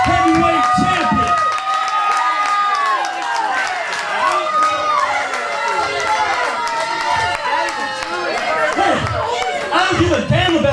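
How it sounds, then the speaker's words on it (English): A crowd at a CWF Mid-Atlantic pro wrestling event roars and cheers throughout, a loud, continuous wash of voices and shouting with clapping mixed in, while someone talks over the noise on a microphone. "I don't give a damn about you cheering."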